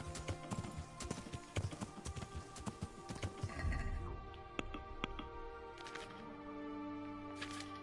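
Horse hooves clip-clopping in the medieval video game Kingdom Come: Deliverance, a steady rhythmic run of hoofbeats at moderate distance with a faint snort, no talk.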